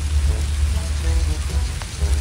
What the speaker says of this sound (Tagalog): ngayon po ay umuulan po dito Kalabal